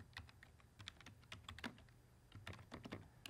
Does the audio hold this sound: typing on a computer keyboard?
yes